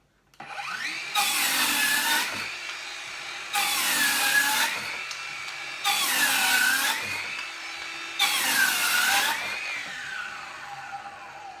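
A Ridgid cordless circular saw running low on battery makes four loud, evenly spaced cuts, each a sustained high whine lasting about a second and a half, with brief quieter pauses between cuts and no talking.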